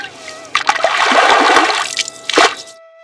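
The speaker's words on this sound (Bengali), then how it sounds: "জলের ভেতরে সবজি ধীরে নড়ে ওঠে।" Vegetables stirred and washed in water in a tiny miniature village kitchen, a burst of sloshing splashes for about a second followed by a brief second splash, close and clear.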